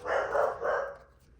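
Dogs bark at holiday deliveries in a home, three muffled, somewhat distant barks running together over about a second, fairly faint indoors.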